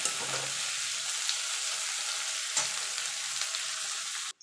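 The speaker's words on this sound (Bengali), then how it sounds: "এবার ক্যাপসিকামটা দিয়ে একটু নাড়াচাড়া করে নেব" Capsicum sizzles steadily in a hot pan for fried rice, with soft scraping stir strokes, one sharper clatter near the middle and an abrupt stop at the end; no voices.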